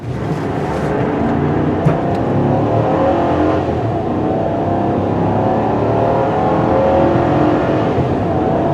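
A 2020 Chevy Silverado 2500HD heavy-duty pickup with the 6.6L engine accelerates from 0 to 60, its steady, loud engine roar filling the cabin throughout without easing.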